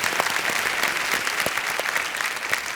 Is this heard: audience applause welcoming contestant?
yes